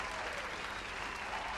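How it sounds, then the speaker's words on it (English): Round of applause from a live audience, steady dense clapping heard up close and moderately loud, with faint voices beneath. "we need to give him a sterling round of applause for Clive"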